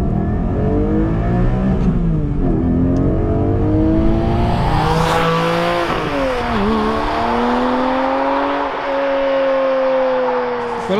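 A 2020 Porsche 718 Spyder's naturally aspirated engine, with an 8,000 RPM redline and an OPF filter, revs high through repeated rising sweeps with gear changes, loud and close, ending in a steady high cruise.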